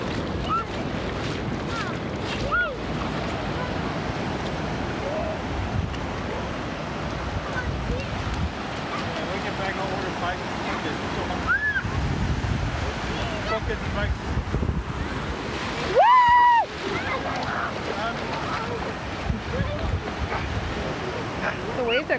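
Ocean waves come ashore at a beach in Belmont, San Diego, a continuous washing roar mixed with gusty wind buffeting the microphone and occasional voices nearby.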